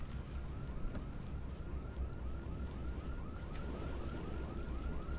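A police car siren wails in the Dead Island video game, a rapid repeating yelp that sounds faint and distant under a dense, noisy background.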